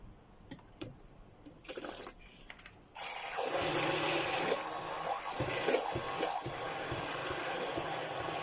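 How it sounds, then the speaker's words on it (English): Water gradually poured into melted oil while making an organic stretch mark cream, starting with a few clicks and clinks, then a steady, fairly loud splashing stream that continues to the end. "So I'll be adding in my water to my melted oil."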